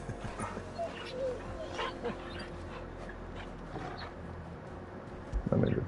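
In Final Fantasy XVI, a dog whimpers and yips in short, soft bursts over a busy game soundscape, ending with a louder closer bark; a person talks throughout.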